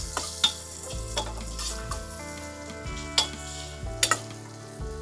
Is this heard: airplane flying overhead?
no